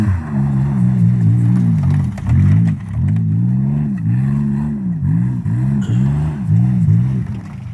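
A Ford Ranger engine runs close and loud, revved over and over in quick surging pulses, each rise and fall of the pitch repeating in a rough rhythm.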